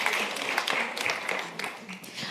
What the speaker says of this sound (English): actually get some of the applause, so it's not only for me